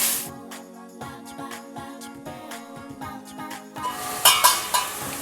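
Sicklepod leaf thoran being stirred in a pan, a rhythmic series of sharp spatula clinks against the metal over a soft sizzle, getting louder and more scraping near the end.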